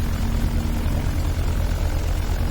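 Simulated airliner engines in the X-Plane 10 flight game throttling up to taxi, a loud steady drone with a low hum and constant rumble, no speech.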